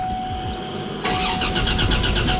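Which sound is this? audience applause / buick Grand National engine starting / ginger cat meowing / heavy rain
buick Grand National engine starting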